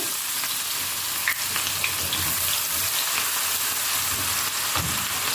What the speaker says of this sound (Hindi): प्याज है बहुत बारीक चॉप किया हुआ है, मैंने शामिल कर देंगे